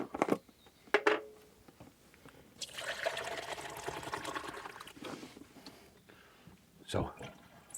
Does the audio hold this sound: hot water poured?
yes